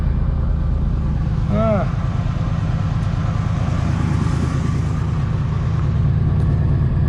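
A loud 1978 Pontiac Trans Am engine idles with a steady low rumble and slight rise in intensity, continuous throughout, with a brief voice-like sound partway through.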